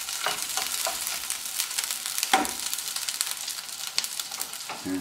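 Fish liver sizzles and spits in a hot frying pan, a steady crackle dotted with sharp pops and occasional scraping stirs, close and fairly quiet with no talking.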